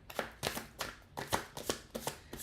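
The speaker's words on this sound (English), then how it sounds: "I hope you're all watching me shuffle." Tarot cards from a Light Seers deck being shuffled by hand in quick bursts, about seven crisp riffling rustles close to the microphone with short pauses between them.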